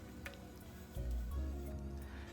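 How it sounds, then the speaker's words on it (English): Hand-drip coffee is poured into a tumbler, giving a soft close gurgling trickle of liquid over low room noise. "Then I pour it into a tumbler for him to take."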